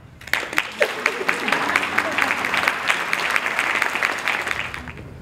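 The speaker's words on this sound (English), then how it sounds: "The king wants you to clap." A crowd at a royal coronation ceremony claps steadily and densely, the applause loud and close and sustained throughout, with voices murmuring underneath.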